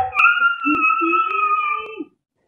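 A dog howls in long, wavering tones with a few brief yips, fairly close and loud, with no talk over it, then stops abruptly.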